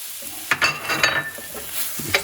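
Breadcrumbs and pecorino cheese being stirred into a creamy mushroom stuffing in a pan off the heat, heard as a few close, soft scraping and mixing strokes with a light sizzling crackle, with no talking.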